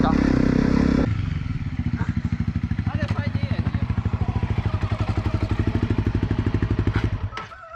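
A Honda quad with a small rear sprocket, ridden off-road: a loud burst of revving first, then a steady, close, rapid thumping engine beat that fades near the end.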